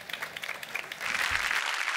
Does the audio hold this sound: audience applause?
yes